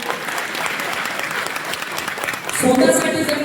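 Conference audience at a soldiers' and farmers' welfare foundation convention breaks into applause, a dense patter of many hands that swells louder near the end, close and filling the hall.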